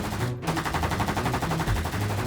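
Rapid, sustained automatic gunfire from police in a mobile game, likely Sakura School Simulator, crackling loudly and continuously in dense bursts for a couple of seconds with no talking.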